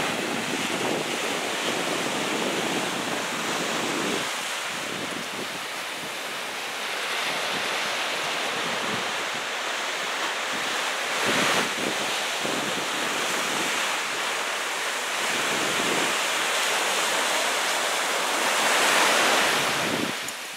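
Calm sea waves wash onto the sandy beach at Zushi in a steady, broadband rush, with gusts of wind buffeting the microphone and occasional swells of louder surf, continuous and fairly close.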